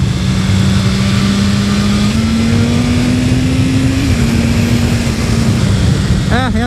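BMW S1000RR motorcycle engine pulling and revving as the bike accelerates, a steady rising whine over heavy wind rush, with a quick rev flutter near the end.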